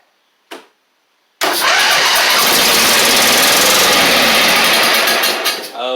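A Husqvarna LGT2654 lawn tractor engine, reportedly needing a new engine and gas tank, gives one short bark, then cranks and catches into a loud, rough, close running roar that continues steadily, running on only one of its two cylinders.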